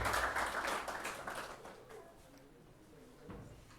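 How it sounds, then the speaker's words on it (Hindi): An audience at a coaching class for government job exams applauds two selected students, a burst of crowd clapping that is strongest at first and thins into scattered claps and faint room noise. "तालियां बजाइए इनके लिए।"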